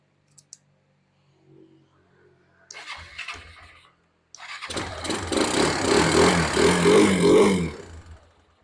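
A Kawasaki engine is started with a key: a couple of clicks, then a brief cranking whir, a pause, and the engine catching and running loudly for a few seconds before dying away.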